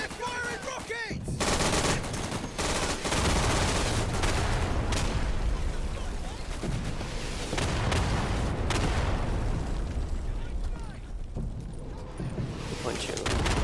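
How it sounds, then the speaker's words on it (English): Enemy rocket artillery firing in a video game, heard as loud, sustained volleys of booming launches and gunfire that pile into a nearly unbroken roar of combat. "Enemy artillery! They're firing rockets!"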